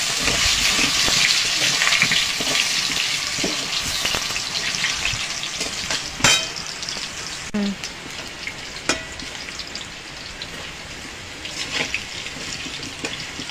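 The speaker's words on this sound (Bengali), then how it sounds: "তেলটা গরম হয়ে গেছে, এবার আলুটা ভেজে নেব।" Potatoes fry in hot oil in a pan, a steady bright sizzle that is loud at first and then settles, with occasional clinks and stirring sounds.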